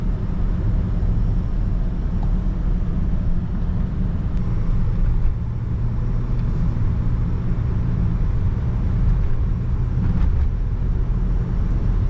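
A BMW E39 523i with M-style styling being driven, heard as a steady, loud low rumble of engine and road noise throughout, with no talking.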